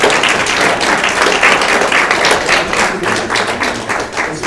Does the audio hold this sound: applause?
yes